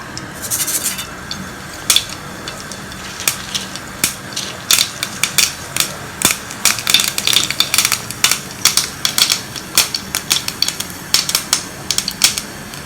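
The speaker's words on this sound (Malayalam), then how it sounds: "എണ്ണ ചൂടായി കഴിഞ്ഞാൽ നമുക്ക് കടുക് ഇട്ട് പൊട്ടിക്കാം." Mustard seeds spluttering in hot oil for a sambar tempering: irregular sharp pops and crackles that start sparse and grow into a dense, rapid patter, heard up close.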